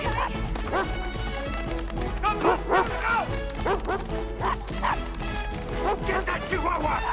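Chihuahuas yip and bark in a chase scene, loud overlapping barks mixed with dramatic music and crashes, with voices shouting over the commotion.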